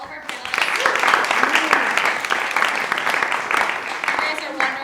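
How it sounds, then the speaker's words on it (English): An audience at a festival workshop claps for the panelists, loud dense applause that swells and then tapers over several seconds, with voices mixed in. "One more round of applause for all of our panelists."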